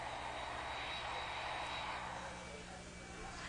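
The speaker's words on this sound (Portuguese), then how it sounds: "outro avião repleto de passageiros" A passenger airplane's engines give a steady, fairly faint droning hum with low tonal layers, unbroken throughout and easing slightly toward the end.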